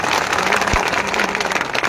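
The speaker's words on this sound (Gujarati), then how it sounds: "કાંતિભાઈ આ બધા માટે પણ એક તાળી પાડો" A crowd applauds at an outdoor political rally in Panthawada, the dense clapping holding steady and loud throughout with a faint low thump partway through.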